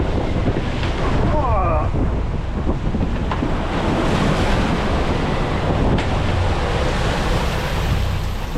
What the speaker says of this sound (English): There's one of the waves going the wrong way.